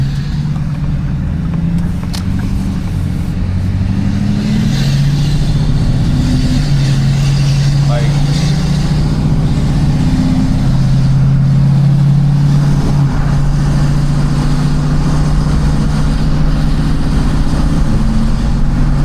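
A Ford 6.4 Powerstroke diesel truck with a VGT turbo pulls hard, its loud, close engine roar holding steady with rising turbo whine and shifting drone throughout.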